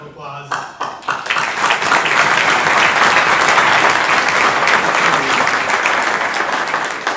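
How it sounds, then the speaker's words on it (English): Banquet guests give a warm round of applause. After a few scattered claps and a brief voice, it builds into loud, sustained clapping from a large room that holds steady for several seconds. "Can you please all join in a warm round of applause"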